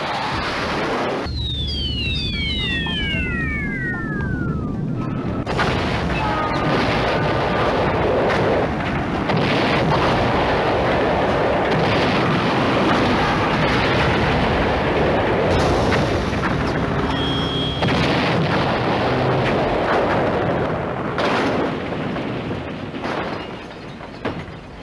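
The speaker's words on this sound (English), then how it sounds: "Bombs away." Bombs blasting a bridge in the Mega CD game Tomcat Alley, heavy rolling explosions and rumbling debris filling the scene, with a few descending whistles at the start.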